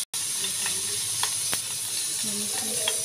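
Chicken fries in a little oil in a pan, a loud continuous sizzle and hiss with occasional pops and soft stirring scrapes, after a brief moment of silence at the start.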